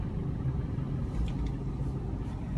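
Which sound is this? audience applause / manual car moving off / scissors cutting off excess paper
manual car moving off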